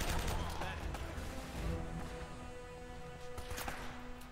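Bursts of M4 rifle fire ring out in the video game Uncharted: Drake's Fortune: sharp gunshots in quick clusters at moderate level, mixed with game effects and a voice talking.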